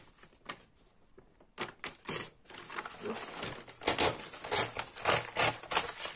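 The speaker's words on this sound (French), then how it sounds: "je vais en découper une partie selon les pointillés" Paper torn along pre-cut perforations guided by a ruler, heard as a series of crisp tearing and rustling bursts that grow denser and louder, with a brief spoken word early on.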